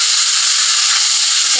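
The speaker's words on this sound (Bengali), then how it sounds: "এদিকে সিম দিয়ে আলু দিয়ে সিম আর আলু ভাজি করতেছি।" Flat beans and potatoes frying together in a pan, heard as a loud, dense, close hissing sizzle that holds steady from start to finish.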